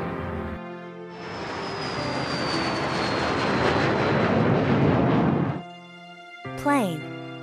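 Cartoon airplane roars past loudly with a rising whine over a sustained jet-like rush, set against steady background music, followed by a short sweeping effect.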